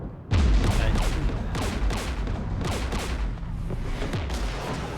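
Heavy gunfire in the Mass Effect 3 video game fighting Geth near a jamming tower, dense rapid bursts and booms close and loud, layered without pause throughout.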